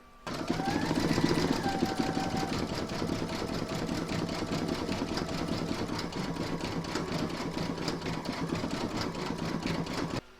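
A sewing machine stitches a puffy foam keyring, a rapid even mechanical chatter that runs continuously and close after a brief whirring start, with no talking.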